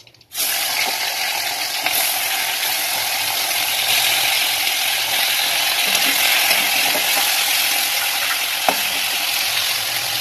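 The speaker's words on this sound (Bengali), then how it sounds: "তো এবার দেখো এগুলো ভেজে নেবো" Pieces of snakehead fish fry in hot oil in a pan, giving a loud, steady, close sizzle that holds unbroken throughout, with faint scraping and a few small pops now and then.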